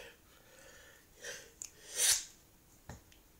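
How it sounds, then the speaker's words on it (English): One person with a cold sneezes once, close but fairly quiet, after a couple of sharp sniffing breaths, with a faint snort just afterward. "I'm going to sneeze again."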